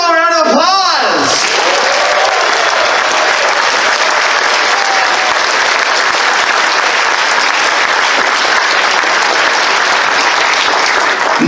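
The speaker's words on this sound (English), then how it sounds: "Give yourselves all a round of applause!" An audience at a furry convention's closing ceremony breaks into loud, dense, sustained applause with crowd noise. A voice speaks briefly at the very start, then the clapping continues steadily.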